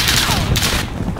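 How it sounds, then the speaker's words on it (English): Burst of gunfire in a shooter video game, several shots crackling in quick succession at close range, loud and continuous over the whole moment with no talk. "Where them shots came from?"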